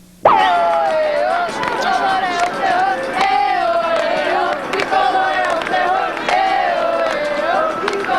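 Brazilian supporters of the Sao Paulo club roar and chant continuously at a 1995 Dallas Cup youth soccer semi-final, a loud sustained crowd din with rising shouts and horn-like tones throughout.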